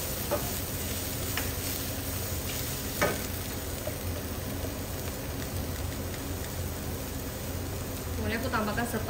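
Vegetables for chicken spring rolls sizzle and hiss in a hot wok, with occasional scrapes and clinks of a spatula stirring, close and continuous.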